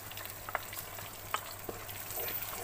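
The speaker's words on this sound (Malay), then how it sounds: "Kita tumis dia lagi sampai dia pecah minyak lagi." Ground chili and curry paste with spice mixed in water sautéing in oil for curry laksa, a steady fine sizzle and crackle with a couple of sharp pops and faint stirring.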